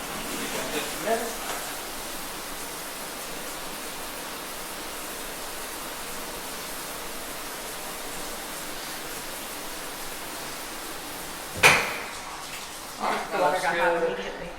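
Ventilation fan in a newly built Energy Star home, a steady even whoosh that runs the whole time, broken near the end by a sharp click and a short burst of voices.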